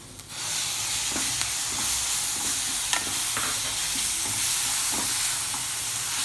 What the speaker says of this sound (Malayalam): ആ ടൊമാറ്റോ ഇതിൻ്റെ കൂടെ ചേർക്കാം.